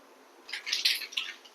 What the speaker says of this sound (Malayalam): കടുക് നന്നായി പൊട്ടിയിട്ടുണ്ട്.